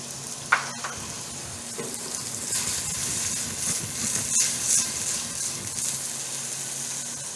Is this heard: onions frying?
yes